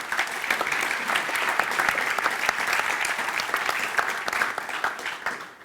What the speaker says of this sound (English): I would like you to join me in a round of applause to our beautiful panel